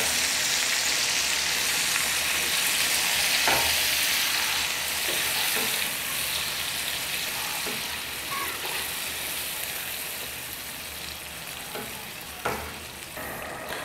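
Vinegar hits chicken pickle frying in a pan, giving a loud, steady sizzle that slowly fades over several seconds, with a few clinks of stirring near the end.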